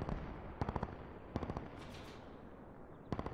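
Bursts of machine gun fire in the video game Call of Duty Black Ops 4, three rapid volleys of several shots each, separated by pauses over a steady background of game ambience.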